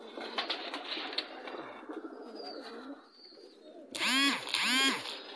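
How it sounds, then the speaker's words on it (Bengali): Pigeons in a home loft, including Rajshahi flying pigeons, shuffle and murmur softly before two loud, close, throaty coos ring out back to back near the end. "এটা হলো রাজশাহী থেকে বাজি কবুতর"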